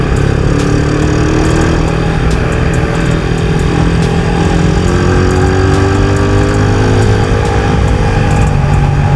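A Suzuki Raider 150 motorcycle engine idles up close with a steady, throaty low rumble and a slight rhythmic wobble, running continuously and loud with no talking over it.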